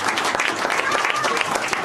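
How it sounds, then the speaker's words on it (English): Audience applause at a city council meeting, a short dense burst of many people clapping at once, close and even in loudness, with some murmur of voices underneath. "let's give him a round of applause."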